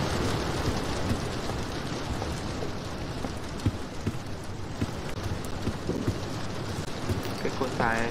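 Dense, steady rainfall with occasional low thunder rumbles pours down in a Roblox game, loud and continuous throughout with no voices over it.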